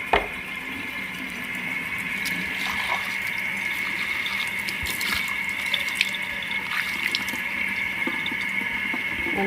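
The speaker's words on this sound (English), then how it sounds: "So take your red chili bowls and fill them up with water." Tap water runs steadily into bowls coated with leftover red chili in a home kitchen, a continuous close splashing stream with no talking.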